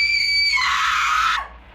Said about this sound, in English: you hear a scream out in the cornfield